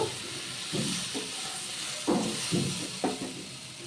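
Spices sizzle in hot oil while being fried for an okra, potato and besan curry: a steady loud hiss with periodic scraping stirs of a spoon in the pan.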